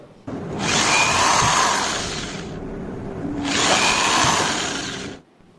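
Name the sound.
drill machine drilling a hole in a piece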